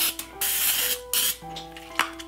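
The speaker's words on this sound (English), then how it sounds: "So now we are going to spray these down." Several short hissing bursts of aerosol cooking spray, close by, in quick irregular succession with brief pauses between them.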